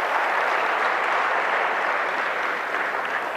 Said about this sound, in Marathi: आपण एकदा जोरदार त्यांच्यासाठी टाळ्या वाजवूयात.